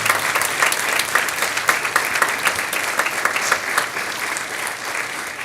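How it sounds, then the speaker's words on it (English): An audience at a meet-the-candidates night for the Marlington School Board applauds all ten candidates, dense clapping spreading evenly through the room with sharp individual claps on top, steady throughout and without talk. "How about a big round of applause for all 10 of our candidates running for Marlington School Board."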